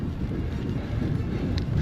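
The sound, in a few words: wind blowing during a cycling ride in France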